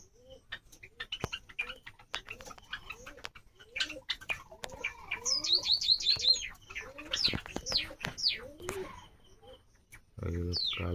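Many Java sparrows in a home colony keep up a busy chorus of close chirps and trills, with some wing flutters and a soft coo, swelling in the middle and ending with a louder burst of noise.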